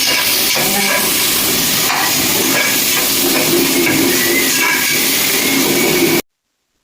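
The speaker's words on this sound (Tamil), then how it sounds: "இப்போ வந்து வெங்காயம் நல்லா வதங்கிடுச்சு." Onions sautéing in a pan for pepper chicken, a loud continuous hiss and sizzle that cuts off abruptly near the end.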